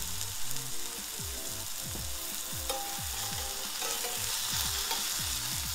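A burger patty sizzles in a hot pan, a steady bright frying hiss with repeated scraping stirs underneath, close and continuous with no talking.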